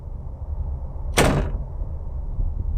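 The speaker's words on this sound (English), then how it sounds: "That sound alone, of the door being locked, it's kind of unnerving, because it is a noise that disturbs the silence." A locked door in the video game Ao Oni gives a single brief, harsh rattling burst, like a sliding or jolted door. The burst is loud against a low, quiet background hum.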